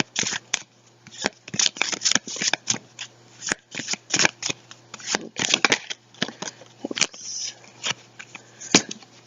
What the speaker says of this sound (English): So we'll pull 3 oracle cards and see what we get.